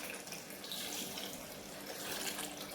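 Washed ceramic dishes are rinsed under a running kitchen tap, a continuous, fairly soft rush of water with no break for the whole short stretch.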